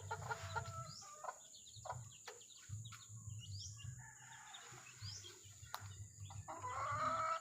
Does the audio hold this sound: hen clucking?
yes